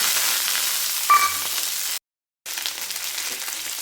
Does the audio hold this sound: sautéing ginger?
yes